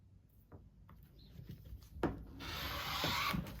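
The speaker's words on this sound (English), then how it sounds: "So I'm going to trim the top." Fabric being trimmed about an inch along the top edge of a sewing project, a soft scraping, rasping cut that starts quietly and then swells into a steady, close rustle over the last second and a half.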